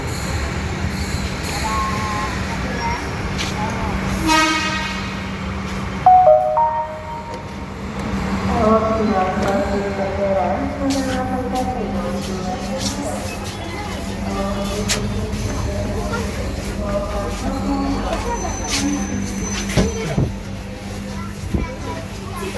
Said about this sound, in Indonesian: Kita naik kereta ya sampai ke stasiun Asrama Haji.